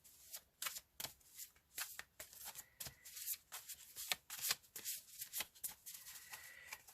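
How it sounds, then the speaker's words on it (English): A deck of cards is shuffled over and over, a quick run of crisp riffling flutters and soft taps, close and fairly quiet. "give them a good shuffle up"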